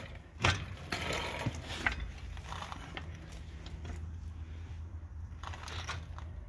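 Metallic clicking and rattling from a bolt being tightened with a chain to pull down the skid plate on a Polaris Ranger, with a sharp clank near the start and steady mechanical scraping that continues close by.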